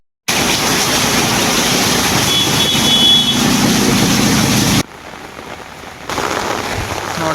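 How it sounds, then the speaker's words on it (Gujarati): Heavy monsoon downpour lashing steadily on surfaces, a loud, dense, continuous hiss that drops briefly in level near the end before picking up again. "અટાણે વરસાદ ચાલુ છે"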